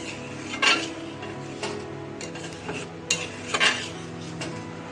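A utensil stirs gobindo bhog rice payesh with cashews in a pot, producing soft scraping and a few sharp metallic clinks against the pot over a low simmering background, with no talking.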